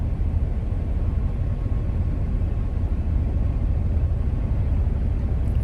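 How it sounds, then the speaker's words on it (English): Steady heavy rain pounds the roof of a truck cab during a thunderstorm, a dense continuous low roar with no breaks, heard from inside the cab. "Hear that rain beating down on the top up there"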